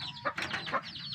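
Several backyard chickens, a rooster among them, cluck in short repeated bursts, fairly close and moderately loud, with no talking.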